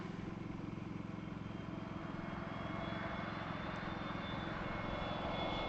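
A Jetstar Airbus A321neo airliner at Gold Coast Airport produces a steady, distant engine roar with a faint high whine, continuous and without talk.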